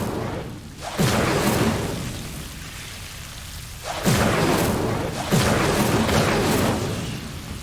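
The Incendio fire spell in Hogwarts Legacy, cast three times as sudden roaring whooshes of flame, each bursting loud and then tapering into a crackling hiss.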